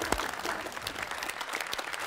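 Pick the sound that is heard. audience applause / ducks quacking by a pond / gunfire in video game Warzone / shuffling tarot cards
audience applause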